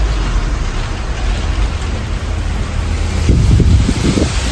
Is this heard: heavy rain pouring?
yes